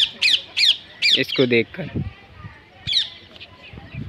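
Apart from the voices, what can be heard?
parrots squawking in the morning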